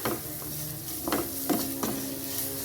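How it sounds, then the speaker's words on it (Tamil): Pounded ginger-garlic paste sautés in a pan for a chicken curry, a close, even sizzle broken by three or four quick stirring scrapes of a spoon against the pan. "இதோடவே நம்ம இடித்து வச்சுருந்த இஞ்சி பூண்டு பேஸ்ட்டையும் சேர்த்து நம்ம நல்லா வதக்கி கொள்ளுவோம்"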